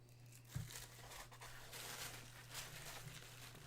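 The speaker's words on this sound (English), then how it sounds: "you have a piece of paper that is, it rips." Paper tears and crinkles in a few quiet, scratchy bursts close by, with a steady low electrical hum running underneath.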